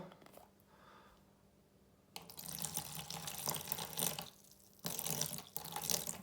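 Water poured from a bottle over live lugworms kept as fishing bait, giving a splashing gurgle in two bursts with a short pause between, preceded by quiet handling, fairly close and without talk.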